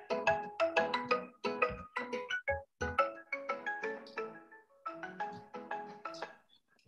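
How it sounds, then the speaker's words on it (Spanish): An incoming call sets off a phone ringtone, a quick bright melodic run of chiming notes that repeats in several phrases, heard clearly and alone during an online conference about bovine leukosis in cattle farming. "Ya María le va a llamar por teléfono"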